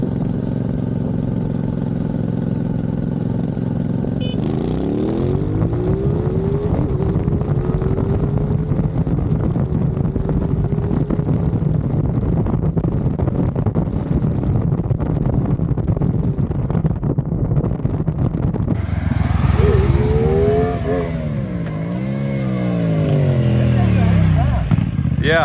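A 2023 CFMOTO 450SS and a Honda CBR500R drag racing, engines rising through gears with strong wind roar, then a nearby motorcycle revving loudly near the end.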